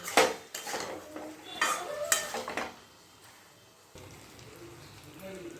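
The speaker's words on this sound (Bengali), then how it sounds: "নুন দিয়ে এবার আলুর সাথে মশলাটা আরেকটু কষিয়ে নিচ্ছি।" A utensil stirs potatoes with spices and salt in a pan for a vegetarian aloo dum, making several close scraping clatters against the metal early on before things settle into quieter stirring, with a voice talking over it.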